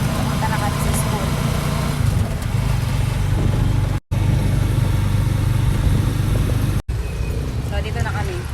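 Motorcycle engine running steadily on a ride to school, a constant mid-low drone with brief dropouts, with voices talking over it.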